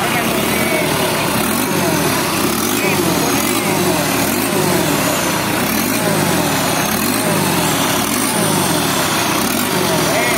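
A standard used Mitsubishi L300 turbo engine runs at a steady, loud idle with a rhythmic, throbbing pulse throughout, close up, with people talking faintly over it.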